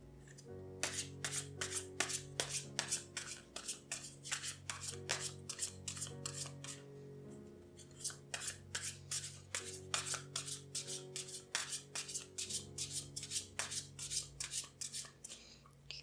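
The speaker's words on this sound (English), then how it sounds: "I'm going to begin shuffling our cards" A deck of tarot cards is shuffled by hand in a quiet room, producing crisp, rapid riffling bursts and soft slides that repeat continuously and close up, with a low steady hum of calm ambient music underneath.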